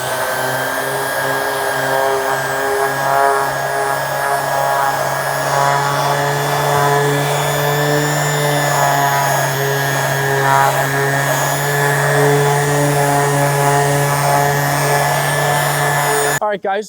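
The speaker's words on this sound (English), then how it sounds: "I'm gonna jump down to 320 on a DA to kind of break up the sanding pattern" A dual-action sander running at 320 grit on the aluminium body of a MacBook Pro, giving a steady, close mechanical whir with a droning hum that continues throughout, with brief speech-like sounds mixed in.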